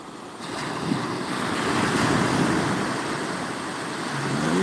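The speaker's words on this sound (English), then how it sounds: "you could sit here for hours and just let the waves come up like that" Ocean waves wash up on Pensacola Beach, a continuous close rush of surf that swells and recedes, mixed with gusting wind on the microphone.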